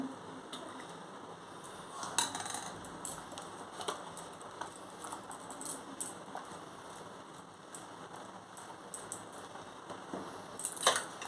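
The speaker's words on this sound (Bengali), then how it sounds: "এইভাবে আপনারাও দুধটা অনবরত নেড়ে যাবেন এখান থেকে আমি কিছুটা দুধ তুলে নিচ্ছি দেখুন" A metal spoon stirs and scoops milk in a cooking pot for malai kulfi, giving faint scattered clinks and scrapes with light liquid movement, no talking.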